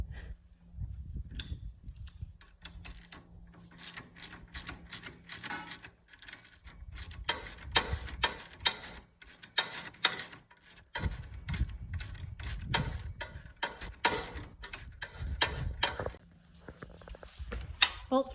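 Socket wrench ratcheting bolts off a riding mower seat, with repeated bursts of rapid mechanical clicking and low handling clunks across the stretch, close and moderately loud.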